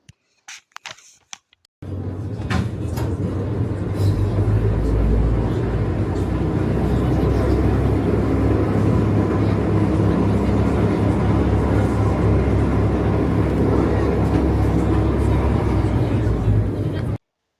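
Riding the Mount Rigi cogwheel train in Switzerland, with a loud, steady low rumble of the car in motion. The rumble begins after a couple of seconds of quiet knocks and then carries on unbroken.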